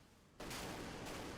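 Anti-submarine RBU rockets launch in a submarine warfare video game as an abrupt, loud burst of roaring noise that cuts in after a quiet moment and holds steady, with a brief swell partway through.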